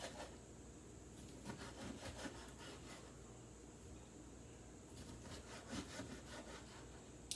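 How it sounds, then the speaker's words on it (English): A knife slices homegrown tomatoes into thin slices, giving faint, soft, repeated cutting strokes in a quiet kitchen. "I'm just gonna slice some thin slices"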